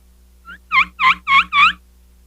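A lost turkey hen call gives a short run of five high-pitched, squealing yelps. They rise in loudness and come close and clear against a quiet background.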